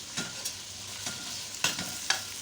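Mutton keema stirred in a karahi pan, giving a few soft scraping strokes over a faint sizzle, with no voices.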